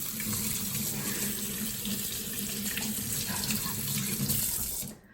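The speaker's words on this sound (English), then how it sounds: "The first step to making this is to wash your hands" Hands are washed under a running kitchen tap, a close steady stream of water splashing into a sink that runs evenly and then cuts off abruptly at the end.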